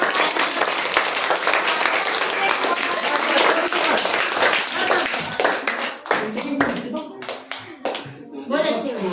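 Audience applause for the winner of a Naat recitation competition at a children's Takrir, Hamd and Naat event, dense steady clapping that thins into scattered claps, with faint voices underneath.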